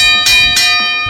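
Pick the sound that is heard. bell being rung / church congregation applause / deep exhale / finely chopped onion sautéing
bell being rung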